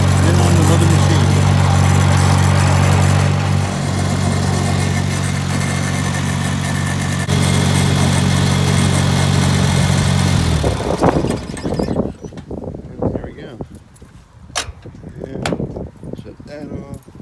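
A diesel machine engine runs loud and close after a cold start in snow, a steady rumbling idle that cuts off partway through, followed by rustling, clicks and handling noises.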